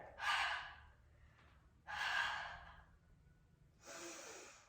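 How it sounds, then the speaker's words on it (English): Three strong, breathy exhales during a guided lower-ab workout breathing drill, each a loud airy rush lasting under a second, separated by short held pauses of near silence. "Exhale, hold. Inhale, let's breathe together."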